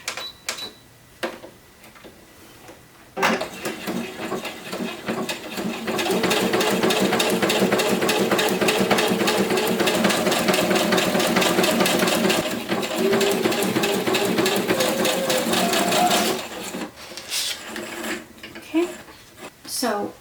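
A sewing machine runs a wide stitch through scraps of leftover cardstock, its rapid even whirring held steady for several seconds at close range, with speech before and after the stitching.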